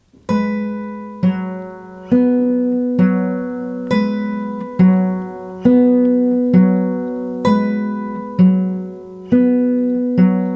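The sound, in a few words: slow guitar fingerpicking pattern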